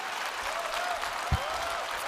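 Conference audience at a developers congress in Berlin clapping for a speaker, a dense, even round of applause filling the hall for a couple of seconds.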